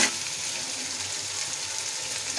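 Chana dal roasting in a pan, a steady, even sizzle with soft crackle heard close by, no voices over it.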